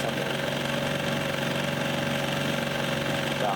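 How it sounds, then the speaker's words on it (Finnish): A sailboat's inboard motor runs steadily on a Finnish lake, its loud, even engine drone with rhythmic knocking pulses continuing unbroken throughout, with no talk. "Mennään nyt moottorilla, kun kerran moottorilla on menty tässä muuta."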